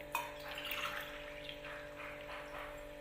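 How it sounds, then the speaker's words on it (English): Water is poured from a cup onto raw rice in a pot, a soft, faint splashing trickle that runs a few seconds, with a steady hum behind it. "I have taken 2 cups, so I am going to add 4 cups of water"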